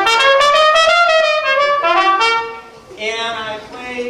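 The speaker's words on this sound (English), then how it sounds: "my trumpet usually sounds like this" Trumpet playing a short melodic phrase, loud and close, bright sustained notes with a brief dip before a higher closing passage; no talking.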